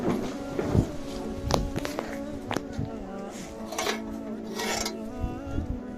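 Meat from a sacrificial animal, apparently tripe, cooking in pots in a busy communal kitchen, with clattering dishes, pans and cutlery, occasional sharp knocks and steady background bustle.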